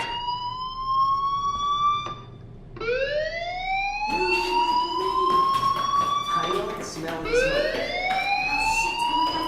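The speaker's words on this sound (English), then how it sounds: "Hey, do you hear that fire alarm? That means you should be outside." A school fire alarm in the video game Life is Strange wails in repeated rising electronic sweeps, loud and close, with short gaps between cycles and a voice speaking over part of it.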